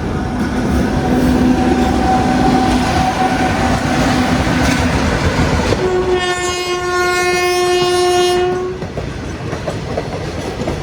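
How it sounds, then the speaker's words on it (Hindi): Loud, steady rumble of an Indian Railways freight train passing alongside a moving passenger express, with a long blaring two-tone horn sounding near the end over the continuous rolling clatter. "देखो भाई, मालगाड़ी ओवरटेक कर रही है अपने को।"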